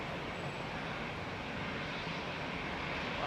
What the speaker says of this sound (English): Wow, that was a very high-powered departure.